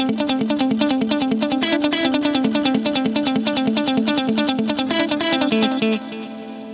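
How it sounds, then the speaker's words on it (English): Electric guitar run through a delay with reverb on the repeats, a steady rhythmic pattern of bright, clear echoing notes ringing loud and continuous, trailing off into a softer wash near the end. "if you wanted to run the reverb but have those very bright and clear rhythmic echoes on there"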